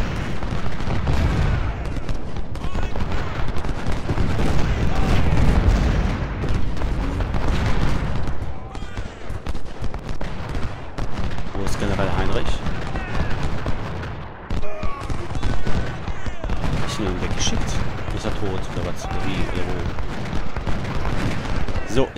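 Cannon and musket fire from a Civil War battle game set at Gettysburg rumble in dense, overlapping booms and crackling volleys, with someone talking over the din.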